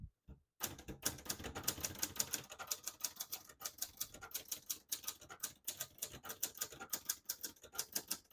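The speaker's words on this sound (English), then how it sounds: "I'll type a sentence in red on the next line by switching the switch up to the top." Typing on a 1966 Hermes 3000 portable typewriter in red ribbon mode, rapid irregular clacking keystrokes close up with sharp metallic strikes, fairly quiet overall.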